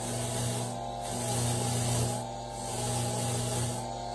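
Steady rubbing and grinding of a polishing wheel against small jewelry pieces, a continuous close whir with a low motor hum that swells and eases in slow waves as pressure shifts, no voices.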